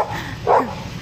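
A single short dog bark, a pet dog that has gotten loose, sounding fairly close and standing out briefly against a steady background murmur.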